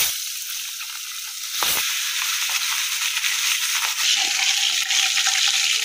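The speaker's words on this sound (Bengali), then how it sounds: "মাছগুলাকে না দেখো সামান্য হালকা ভেজে ফেলছি" Magur fish frying lightly in hot oil in a pan, a steady bright sizzle and hiss that thickens after a brief crackling burst, continuing loud and close with no talk.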